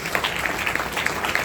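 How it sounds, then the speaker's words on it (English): An audience claps for a conference organizing team at an IEEE international conference, a steady patter of many hands at moderate level with scattered sharper claps, and no voices rising above it. "so I request you to give a huge round of applause for all of them"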